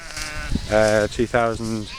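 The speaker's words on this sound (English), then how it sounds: "So this is our mega mob of sheep, as we call it." Large mob of about 2000 sheep, ewes with lambs, bleating loudly at close range in overlapping calls while someone talks over them.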